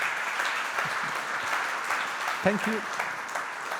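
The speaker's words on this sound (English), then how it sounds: "let's give them another round of applause" A conference crowd gives a faint, steady round of applause in the background while a speaker briefly talks over it.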